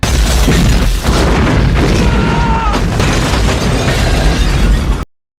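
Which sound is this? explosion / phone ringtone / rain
explosion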